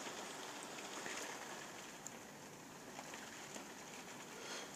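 Rain driven by a southeasterly storm wind, with gusts near 100 km/h, patters against a window glass during a violent thunderstorm in Carpentras, Vaucluse, a soft dense hiss with occasional sharper drop taps, fairly faint and steady.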